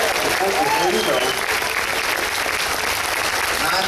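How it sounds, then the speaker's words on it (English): An audience breaks into loud, sustained applause for Patrick, the steady clapping filling the whole moment, with a voice talking over the opening second. "Give me a big round of applause"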